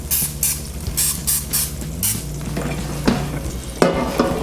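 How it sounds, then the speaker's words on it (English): Several short, bright spritzes of cooking oil spray hiss over chicken wings in a Gowise USA air fryer with a low hum, followed by a few softer bursts and faint clatter. "we're gonna go ahead and spray with a little bit of oil on some of those spots"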